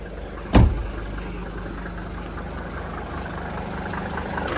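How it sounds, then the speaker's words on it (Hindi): An old Mercedes W124 diesel engine idles under an open hood with the engine shield removed, a steady low rumble running throughout after a brief loud knock near the start. "old diesel engine roaring inside this hood."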